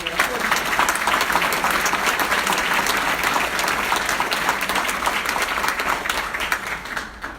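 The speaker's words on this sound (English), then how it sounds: "So a round of applause." An audience at a general membership meeting applauds an honoree of the Distinguished Member Award, a steady wash of many hands clapping that fades slightly at the end.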